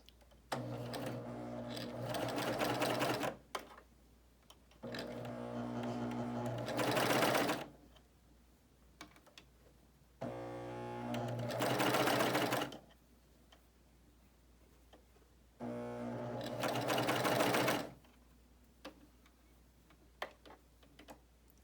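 A BabyLock Euphoria coverstitch machine runs in four loud, close bursts of about two to three seconds each, a fast rattling whir with quiet pauses between.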